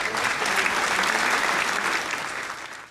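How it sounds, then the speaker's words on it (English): Steady applause from a school audience at a virtual Black History program, a dense wash of many hands clapping at even loudness for about three seconds before tapering slightly, with no voices over it. "Let's clap it out"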